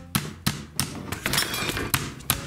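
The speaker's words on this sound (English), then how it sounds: "I'm going to use this thing here. It's a meat tenderizer." A meat tenderizer pounding a steak flat on a kitchen board, about eight heavy, irregularly spaced thuds and slaps ringing close and clear.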